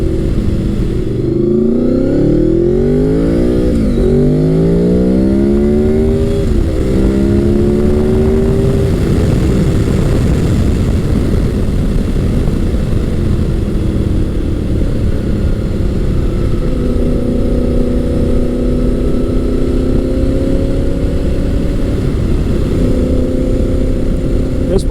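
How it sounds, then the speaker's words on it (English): Gen 5 Honda VFR800 motorcycle with a Stain Tune exhaust heard while riding, a loud continuous engine drone with rising revs and gear shifts early on, then a steadier cruising hum under heavy wind rush. "This bike is running a Stain Tune exhaust, so it's got some performance upgrades as well."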